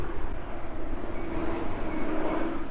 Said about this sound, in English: let's wait for the airplane to fly over